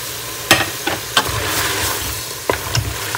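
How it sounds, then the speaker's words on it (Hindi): Tomatoes fry in a pan for aloo mutton while a spoon stirs them, giving a steady sizzle up close broken by several sharp scraping strokes against the pan. "और टमाटर डाल के हम इसको अच्छे से फ्राई कर लेंगे।"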